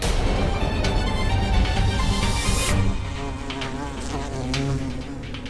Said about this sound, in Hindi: महिष्मति की मधुमक्खी इनके शरीर के अंदर है, उसे बाहर निकाल कर मारना होगा